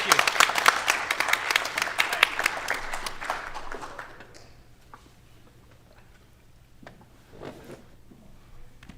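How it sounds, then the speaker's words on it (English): A room at a school board of education meeting claps for a visiting judge. The applause is brisk and fairly close, then dies away after about four seconds, leaving scattered small sounds and faint movement in a quiet room. "So we give the judge a nice round of applause for joining us."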